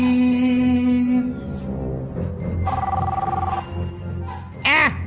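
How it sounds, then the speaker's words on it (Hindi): A telephone rings inside the GTA video game, a bright electronic ringtone repeating several times, loud and clear, with background music and a brief synth swoosh near the end. "इतने दिनों के बाद किसका फोन आ गया?"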